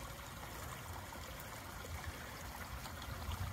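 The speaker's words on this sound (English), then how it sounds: "So there's their brook." Steady outdoor rush and trickle of a brook flowing near beehives, a continuous broadband wash of moving water at moderate distance with no voices.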